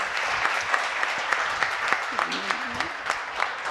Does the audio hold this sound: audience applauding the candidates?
yes